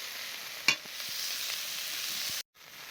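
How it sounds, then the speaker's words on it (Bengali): Shrimp lightly fried in a pan for a bottle gourd peel dish, giving a continuous close sizzle with one sharp stir knock, then a brief silence before the frying resumes. "চিংড়ি মাছটা দিয়ে আমি আবারও নেড়ে চেড়ে নেব হালকা করে নেড়ে চেড়ে"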